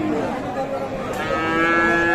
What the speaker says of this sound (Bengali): এখানে আমরা দেখছি বেশ সুন্দর সাইজের শাহিওয়াল বাছুর বাঁধা আছে।